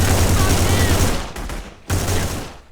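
Machine pistol gunfire in The Punisher video game: loud, close, rapid automatic bursts that break briefly and then resume, dense and crackling.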